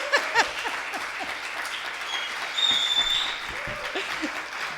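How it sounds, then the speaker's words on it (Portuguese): Audience applause at a poetry panel, moderately loud, steady clapping with a few cheers and a brief voice over it. "Para o aplauso de vocês, obviamente."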